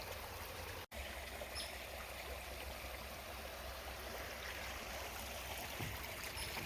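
Water pours steadily over a beaver dam along the Appalachian Trail in New Jersey, a continuous rushing trickle heard up close with no voices.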